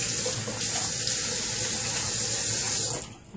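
A bathroom tap runs steadily into a sink while a face is wetted before a shave, a close continuous splashing hiss that cuts off near the end.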